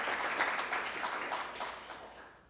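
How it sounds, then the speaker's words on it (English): Faint applause from an audience at a college event honors the Penguin Pantry food-box program, a soft wash of clapping that gradually fades out. "Let's get a round of applause for the Penguin Pantry."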